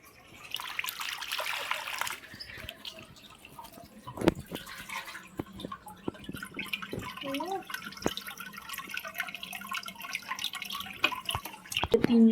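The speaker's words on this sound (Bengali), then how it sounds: "এখানে টপ ফিল্টার আছে, টপ ফিল্টারে জলটা এসে পড়বে, তারপর গোটা জল ফিল্টার হবে" Water falling into an aquarium's top filter, a faint steady trickle with scattered drips and small splashes, close by and quiet.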